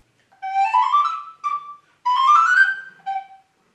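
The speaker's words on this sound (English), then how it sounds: "This one is called a descant recorder." A descant (soprano) recorder plays a short phrase of clear, breathy high notes, four separate tones with brief gaps between them, close and alone with no talking.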